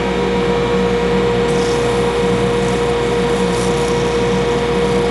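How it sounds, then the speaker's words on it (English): Sandpaper at 600 grit rubs steadily against an Alumilite Manzanita resin ring blank spinning on a woodturning lathe, a continuous close hiss over the lathe's constant motor hum. "So now I'll do a little sanding."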